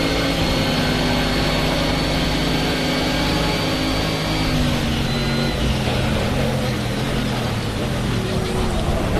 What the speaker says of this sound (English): it's a V10 naturally aspirated.